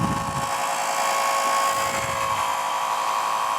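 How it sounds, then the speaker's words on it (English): Buon Vino wine filtration machine running during filtering, its motor giving a loud, steady, high-pitched whine with a constant hiss and no pauses. "You'll hear the sound of the motor, and it's pretty loud, but it's not unbearable."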